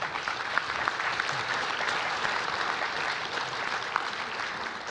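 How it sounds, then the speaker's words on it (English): Audience applause for a conference panel at an international WWII conference, dense, even clapping from a large crowd that stays loud and steady throughout, with a few sharper claps standing out. "A round of applause for the panel."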